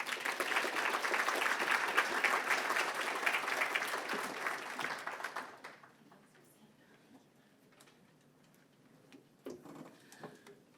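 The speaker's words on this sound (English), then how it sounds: "Everyone, please give a round of applause for Brandi." An audience claps for keynote speaker Brandi Boatner at the PRSA 2019 Tri-State District Conference. Dense, loud applause holds for about five seconds, then dies away into quiet room noise with a few scattered knocks.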